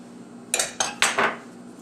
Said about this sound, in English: just take the knife, scrape it off, and apply it to the previously said slice of bread